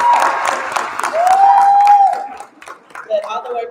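A panel audience claps along with loud whooping and cheering, the applause steady for about two and a half seconds before thinning out as voices rise and talk begins.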